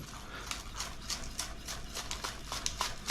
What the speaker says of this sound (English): when you slice scallions nice and thin like that